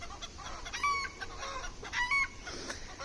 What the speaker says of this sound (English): Chickens are being noisy